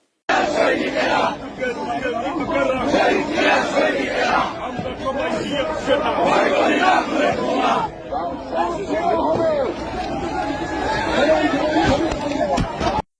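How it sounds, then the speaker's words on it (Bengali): A crowd loudly chants slogans around a running BNP leader: a dense, continuous mass of shouting voices at steady volume from start to finish, with overlapping cries and chatter. "বিএনপি নেতার স্লোগান দিতে দিতে দৌড় দেওয়া।"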